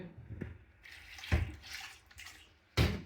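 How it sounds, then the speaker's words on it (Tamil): Water splashes and sloshes in a few distinct bursts as chicken pieces are rinsed in a basin by hand, fairly quiet with short pauses between. "ரெண்டு தண்ணியில் நல்லா கழுவிட்டு"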